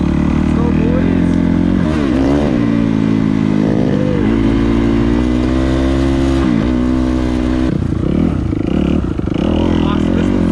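A used dirt bike engine runs loud and steady close by, revving up and pulling away as the rider takes off, with a constant motor drone throughout.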